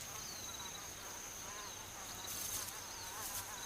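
A female pompilid wasp in Tanzanian acacia woodland buzzing, a faint wavering insect drone over quiet ambient hum, rising briefly in intensity toward the end.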